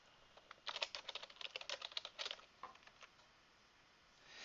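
Rapid keystrokes on a computer keyboard while an email address is entered, a quick run of soft clicks for about two seconds, then a few scattered taps, quiet and close, with no talking.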